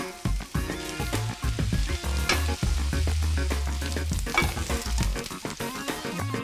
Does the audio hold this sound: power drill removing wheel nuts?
no